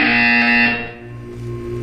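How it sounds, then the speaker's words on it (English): A harsh, loud electronic buzzer in a video game blares for under a second, then fades into a lower lingering hum. "You will hear a buzzer. When you hear the buzzer, look up at the ceiling."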